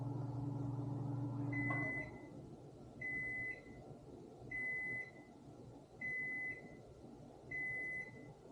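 A Whirlpool built-in microwave hums quietly while running, then stops and gives five evenly spaced beeps, each about half a second long, over a faint background.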